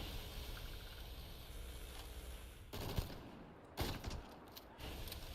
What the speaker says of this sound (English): So all my turrets will take it out.